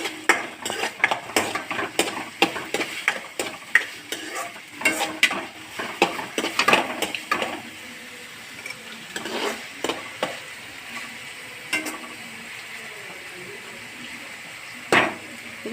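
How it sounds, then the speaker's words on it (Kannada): Onions frying in a pan while being stirred, a sizzle under rapid clattering spoon strokes and scrapes that come in busy bursts, then ease to a quieter sizzle with a few scattered knocks. "ಈರುಳ್ಳಿನ ಹಾಕ್ಕೊತಾ ಇದ್ದೀನಿ. ಇದು ಚೆನ್ನಾಗಿ ಫ್ರೈ ಮಾಡಿ."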